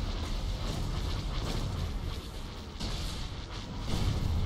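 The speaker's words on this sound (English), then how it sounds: "I love big explosions in the morning." A deep, rumbling explosion in a Star Wars strategy video game roars and crackles continuously, a thick wash of booming noise that swells again near the end.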